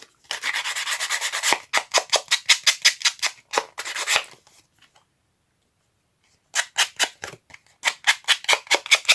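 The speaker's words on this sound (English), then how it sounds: "This is a sanding disc." A handheld sanding disc roughs up a craft project surface in quick repeated rasping strokes, a steady run of rubbing followed by a rapid series of short scrapes, a pause of silence, then another burst of brisk strokes, close and clear.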